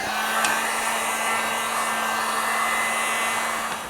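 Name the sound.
hot air blown to heat adhesive, hair dryer or heat gun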